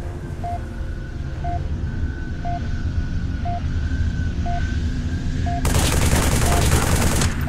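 Dense gunfire rips through a loud battle in the video game Halo 3: ODST, starting as a steady roar with an evenly spaced beeping tone and ending in a harsh sustained burst.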